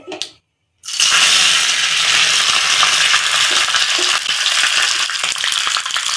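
Fresh curry leaves dropped into hot oil for ghee rice and kabuli chana kurma, bursting into loud, dense spluttering and crackling right after a brief pause, sustained and close.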